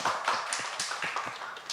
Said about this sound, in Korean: 우리 혼자 나왔기 때문에 우리 박수 한번.